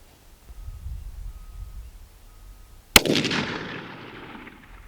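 A single sharp, loud 6.5 Creedmoor rifle shot at an outdoor range while sighting in, cracking suddenly after a quiet stretch and trailing off in a long rolling echo.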